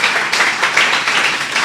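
Congregation at a church service breaking into loud, dense clapping that holds steady and close for the whole short stretch, with faint voices mixed in.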